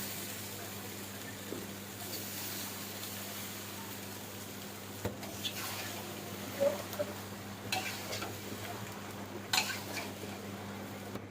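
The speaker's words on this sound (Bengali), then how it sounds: "এখন আমরা পাস্তা অ্যাড করে দিচ্ছি।" Pasta is tipped into a pan of cooked spice mix and stirred, giving soft scraping and occasional sharp clinks of utensil on the pan over a steady low hum, with no talking.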